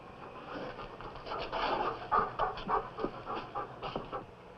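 A dog pants rapidly and audibly, with rough breathy bursts in a steady rhythm and a low growling edge, close by and without speech.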